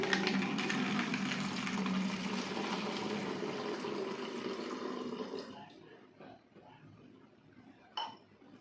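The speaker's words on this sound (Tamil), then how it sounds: "தண்ணி வந்து இதில் ஊற்றிட்டேன்." Water pours into an empty water can in a steady, fairly loud splashing rush that stops around the sixth second, followed by faint clinks and one sharp knock near the end.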